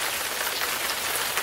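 Heavy rain pours down a rain chain on a log cabin, a close, continuous patter and trickle of running water that holds steady with no talk over it.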